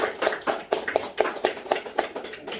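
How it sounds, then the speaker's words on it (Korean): A church congregation claps in a steady, quick rhythm for their choir leader, roughly ten sharp claps at an even pace, fairly close and with no talking. "우리 찬양 단장을 박수를 한번 쳐주시기"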